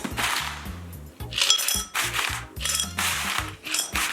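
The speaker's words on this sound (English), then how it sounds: "And we'll grab some ice." Ice cubes tumble into a glass with a quick run of hard clinks and rattling clatter in several short bursts, close and crisp with no talking.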